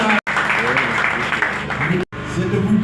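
An audience at a formal ceremony breaks into applause, with dense, continuous clapping from many hands. It stops abruptly twice, and a voice is faintly audible beneath it.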